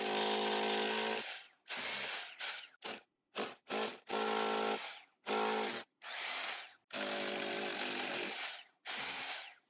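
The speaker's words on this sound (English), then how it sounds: "I'm just drilling a hole or two." A corded electric drill powered from a portable lithium-ion power station bores a few holes outdoors, with repeated loud whining bursts of varying length broken by short pauses.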